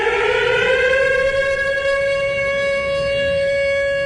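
Civil defense siren blaring as a show segment sound effect, a loud sustained wailing tone with layered steady harmonics held for about four seconds, no voices over it.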